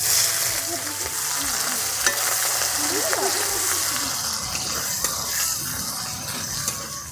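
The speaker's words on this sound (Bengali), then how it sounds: "পেঁয়াজটা ভাজা ভাজা হয়ে গেছে" Chopped onions sizzle steadily in hot oil with bay leaf and a pinch of sugar as an Indian aloo dum is cooked. A constant frying hiss and occasional stirring scrapes play throughout, with a voice faintly in the background.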